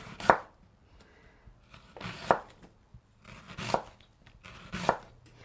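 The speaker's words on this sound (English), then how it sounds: "We're just going to slice these as thin as we can." A knife slices onions and peppers thinly on a cutting board, four distinct crisp chops spaced about a second apart, close and clear against a quiet background, no talking.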